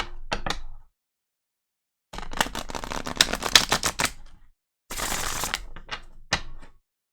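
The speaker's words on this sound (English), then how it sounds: "Let's go ahead and give these decks a really good shuffle." Tarot card decks are shuffled in three rapid bursts of crisp, clicking riffles separated by short silences, close and fairly quiet.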